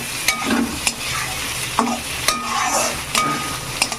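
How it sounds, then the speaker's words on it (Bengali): Chopped onions and bitter gourd sizzle steadily in a hot pan, with a spatula stirring and scraping at irregular intervals, producing sharp clinks over the continuous close frying hiss. "এবার আমি পেঁয়াজ কুচিগুলো দিয়ে দেবো এবার পেঁয়াজও ভেজে নেবো খুব ভালো করে"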